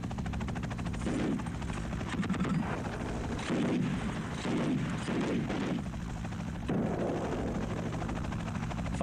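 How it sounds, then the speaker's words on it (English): A Russian-crewed Mi-8 military helicopter flies over Afghanistan, a loud continuous rotor drone with rhythmic thumping pulses that swell and fade across the whole stretch. "the Mi-8 stays well out of range of Akbar Ali's machine gun."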